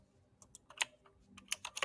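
Someone mashes a computer keyboard in a quick, irregular burst of sharp, close key clicks that grows denser toward the end.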